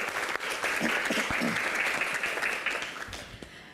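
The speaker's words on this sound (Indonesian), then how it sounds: "Wah, tepuk tangan yang paling meriah." Audience applause at an indoor Q&A event, a dense, steady burst of clapping that holds for several seconds and tapers slightly at the end, with a voice faintly underneath.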